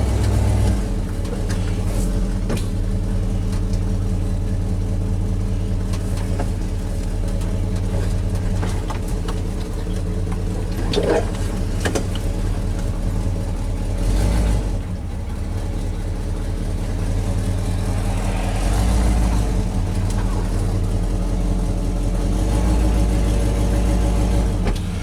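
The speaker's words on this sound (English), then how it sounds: "We'll reverse the truck back into the back here." A Ford F-series truck engine hums steadily while reversing, a low idling drone with slight revs and shifts, close and continuous with no talk.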